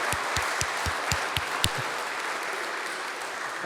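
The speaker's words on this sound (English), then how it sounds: "Please, a round of applause once more." Audience applause after a panel discussion on money and banking, a dense steady patter of many hands with a few sharper claps near the start, filling the whole stretch at moderate level.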